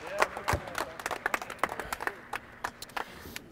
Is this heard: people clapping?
yes